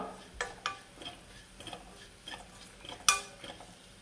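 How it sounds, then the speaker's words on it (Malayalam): Turmeric powder stirred in a pan for a ripe mango curd curry gives faint scattered spoon taps and scrapes over a quiet background, with one sharper clink near the end. "അതിൻ്റെ ആ ഒരു പച്ച മണമൊന്ന് മാറി കിട്ടാൻ വേണ്ടി ജസ്റ്റ് ഒന്ന് ഇളക്കി കൊടുക്കാം"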